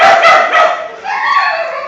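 A puppy gives close, loud high-pitched yips and whiny barks, a few quick calls that slide into a longer whimpering cry.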